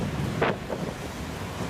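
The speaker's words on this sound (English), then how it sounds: "Winds are gusting to hurricane force now." Hurricane Matthew's wind gusts roar and buffet the microphone in a brief, dense rush of broadband noise with a short surge in the middle.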